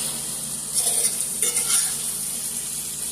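Beef liver and onions frying in butter and olive oil, a steady hiss with a couple of brief louder swells of stirring in the middle, close and moderately loud, no speech.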